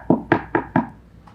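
Four firm knocks on a wooden door in quick, even succession, close and distinct, followed by a faint fifth tap.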